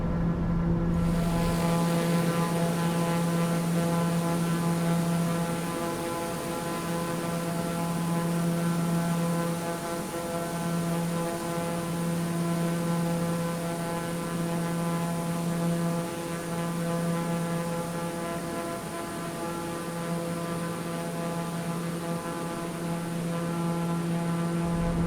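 A Black Square TBM 850 turboprop cruises in a flight simulator game, giving a steady, loud, droning engine tone with a constant low hum that holds unchanged throughout, no voices.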